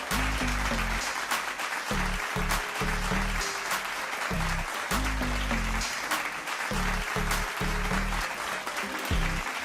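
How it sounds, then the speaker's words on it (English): Sustained crowd applause at a cricket rating awards show for Virat Kohli, a dense continuous roar of clapping throughout, with a musical sting thumping in low pulses beneath it. "Applause for Virat"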